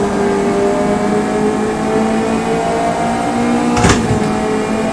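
A racing video game car engine in fourth gear drones loudly and steadily at a constant pitch, with a brief sharp burst near the end.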